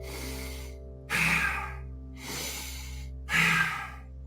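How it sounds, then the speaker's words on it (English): Kapalabhati pranayama breathing, with four sharp, forceful exhales snorted through the nose at an even pace, each a short loud burst with quieter breath between, close and without talk. "inhale through the nose and then squeeze the belly to get used to using these muscles to squeeze the breath out of the lungs"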